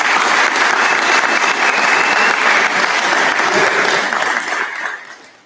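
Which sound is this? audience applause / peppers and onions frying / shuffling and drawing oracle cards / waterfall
audience applause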